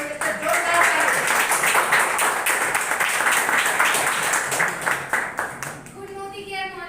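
Audience applause and clapping at a gathering, a dense patter of many hands lasting several seconds before tapering off, with voices mixed in underneath and a voice speaking at the end.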